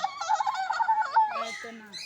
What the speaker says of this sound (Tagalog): Blue and gold Macau.